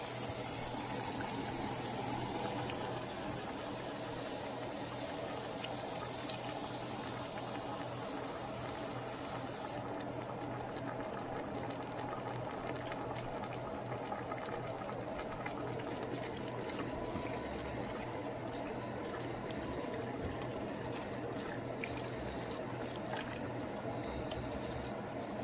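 Hot tap water pours steadily from a large cup into a pan, a continuous splashing trickle with a faint background hum and no talk.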